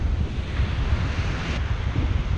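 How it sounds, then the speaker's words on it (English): Strong wind buffets the microphone on an island beach during surf fishing, a continuous low roar mixed with surf wash, loud and close with no voices. "The wind is cutting back our casting distance"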